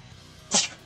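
A single short sneeze, sharp and fairly loud, bursts out over a quiet room background.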